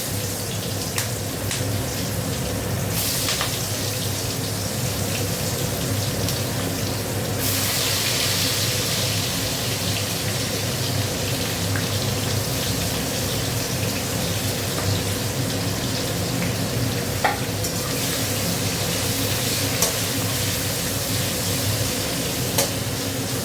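Onions and garam masala frying in hot oil in a pan make a continuous, close-up sizzle lasting throughout, with occasional stirring scrapes and brief surges of crackle.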